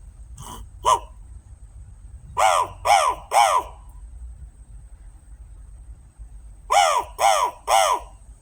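A human voice imitates crow caws, loud and close: a quick pair, then a pause, then two runs of three harsh caws with silence between.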